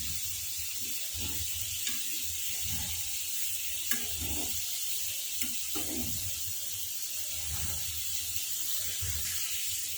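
Tomatoes sizzle in a frying pan while being turned over for a tangy tomato chutney, a soft steady hiss broken by several quiet scraping and shuffling bursts as pieces are flipped.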